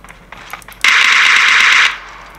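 Automatic gunfire in a mobile shooter game played with a RED MAGIC 3 gamepad: one loud, continuous burst of rapid shots lasting about a second, preceded by a few lighter taps and clicks.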